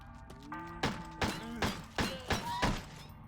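Quick gun reloads in the survival horror game Crow Country: a run of five or six sharp mechanical clunks and clacks, evenly spaced, over steady game music.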